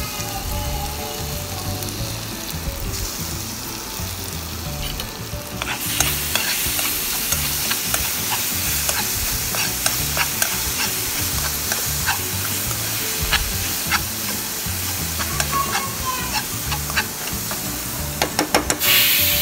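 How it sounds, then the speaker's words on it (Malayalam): Sliced plantain frying with raisins in a pan, sizzling loudly and continuously up close, with repeated scraping and stirring clicks from a spoon throughout and a sharper hiss as the fruit goes in. "ഇനി ഈ കിസ്മിസിലേക്ക് നമുക്ക് നേരത്തെ അരിഞ്ഞ് വെച്ച നമ്മുടെ നേന്ത്രപ്പഴം ഇട്ട് കൊടുക്കാം."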